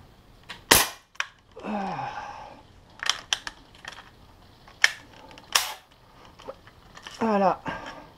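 A pump-action air rifle fires a lead pellet at 8-metre target shooting, with several sharp, close cracks and clicks scattered through the clip and someone talking between them.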